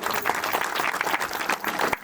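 A steady wash of clapping from a crowd at a temple idol consecration ceremony, dense and continuous throughout, with no voices standing out.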